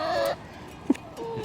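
A chicken clucks and squawks, agitated after touching an electrified fence around a tea garden, a few short nearby calls with a brief sharp cluck in the middle, heard alone.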